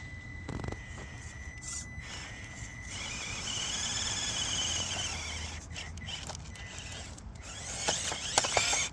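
Traxxas TRX4M RC crawler on a trail course, its motor and gears whirring and ratcheting with a strained, labored tone as the battery dies, steady for several seconds with brief clicks and a few nearby bumps.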